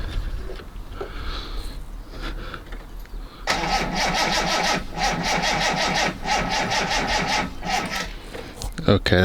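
A Reliant Scimitar engine cranks on a flat battery, the starter labouring in a loud, steady rhythmic churn close by without catching, after a short quieter lead-in.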